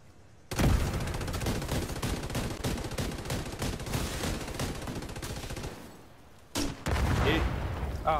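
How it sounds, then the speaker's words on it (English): Heavy automatic gunfire from The Division 2's Dark Zone, sustained loud bursts of rapid shots for about five seconds, a brief gap, then another loud burst of firing. "who's firing that now?"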